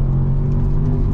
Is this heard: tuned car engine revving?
yes